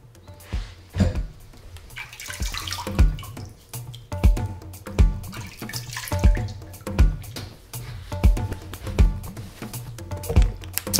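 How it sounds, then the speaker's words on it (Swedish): Cold water from a tap is splashed up onto the face to rinse after a straight-razor shave, in a rhythmic series of close wet splashes and drips over a soft running stream. "När man är klar med rakningen så är det bra att skölja av ansiktet med kallt vatten."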